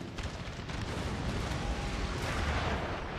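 Prussian artillery in a Napoleonic-era Total War battle booms continuously. The deep, rolling blasts blend with crackling musketry into a dense, loud wall of noise that never lets up.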